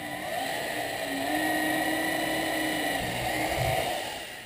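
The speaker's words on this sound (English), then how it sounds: "So I'm going to use a hand drill for that." A hand drill whirs steadily as it bores into a large pulley wheel, making room for a set screw that fixes it to a bar; the motor tone holds fairly even and loud throughout, with no talking.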